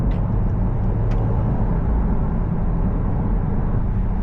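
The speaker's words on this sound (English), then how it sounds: "You hear that turbo too." A 2018 Subaru WRX STI engine drones steadily with a low rumble and a faint high turbo whine running through it, continuous and close throughout, driven in a Winnipeg winter.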